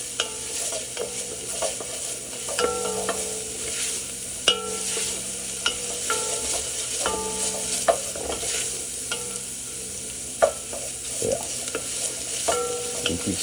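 Food frying in a decently hot pan while being stirred for macarona bil-bechamel, a bright steady sizzle punctuated by frequent rhythmic scraping and clacking of a utensil, close and fairly loud, with no one talking.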